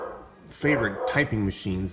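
A dog barks repeatedly in short, loud bursts close by, about four or five barks in quick succession, overlapping with a person talking.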